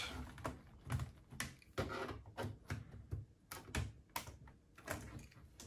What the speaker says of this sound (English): and it pries out just like that.